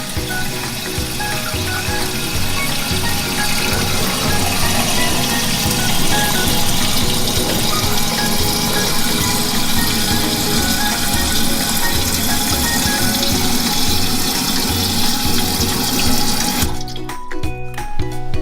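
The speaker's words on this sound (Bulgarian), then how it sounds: "Следва да пуснем водата, като развием кранчето обратно на часовниковата стрелка." Water rushes steadily into an Alcaplast AM101 toilet cistern as it refills for a long stretch, a loud continuous hiss and gurgle that stops abruptly near the end.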